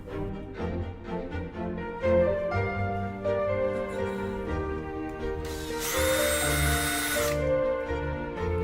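A power drill bores a 3.5mm hole to locate a magnetic catch on a slimline bifold door, giving a brief, loud whirring burst of about two seconds over steady background music.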